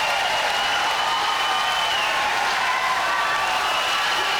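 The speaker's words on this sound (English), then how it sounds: "The crowd here at the Central Arena going bonkers." Arena crowd roaring and applauding after a fight finish, a loud, sustained wash of cheering that holds at full intensity from start to end.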